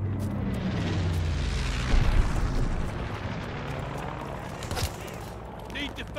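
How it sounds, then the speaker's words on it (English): A grenade explosion in Call of Duty: Vanguard multiplayer erupts as a broad rumbling boom that swells near two seconds and decays into a long noisy tail, with smaller crackling hits later. "Tossing grenade!"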